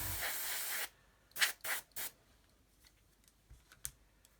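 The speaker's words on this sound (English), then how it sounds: "You can use the airbrush to blow it all around." An airbrush blows paint around on a 1/35 HobbyBoss Land Rover 90 scale model, with a sustained hiss followed by several short, sharp bursts of air up close.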